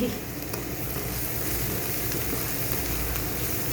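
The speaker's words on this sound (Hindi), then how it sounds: "बस हम हल्का से इसको ऐसे सौते करेंगे" Spices sautéing lightly in a pan for an egg lababdar curry give a steady, close sizzle and crackle that runs unbroken and even in loudness throughout.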